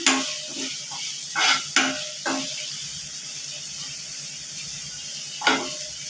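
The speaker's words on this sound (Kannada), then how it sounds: "ಹೀರೆಕಾಯಿ ಸಿಪ್ಪೆ ಹಾಕಿ ಇದು ಸ್ವಲ್ಪ ಕೆಂಪಾಗೋ ತನಕ ಹುರಿಬೇಕು" Soft steady sizzle of ridge gourd peel frying in a pan, with several short scraping stirs of a spatula scattered throughout.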